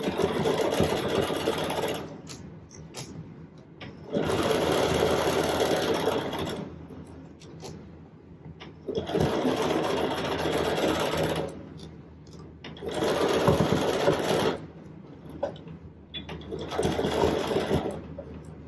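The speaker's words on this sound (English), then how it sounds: "I'm going to sew a 1/2 inch from the top edge, and I'm just going to go sew all the way along" Sewing machine stitching a channel along the top edge of a fabric face mask, with several loud whirring runs of a few seconds each, separated by short quiet pauses.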